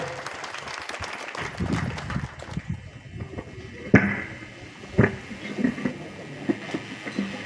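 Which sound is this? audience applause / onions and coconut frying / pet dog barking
audience applause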